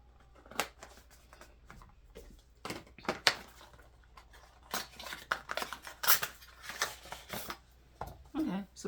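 Scissors snipping open a plastic Beauty of Joseon skincare product bag, a series of close, sharp cuts and crinkles in irregular bursts, with quiet rustling between them.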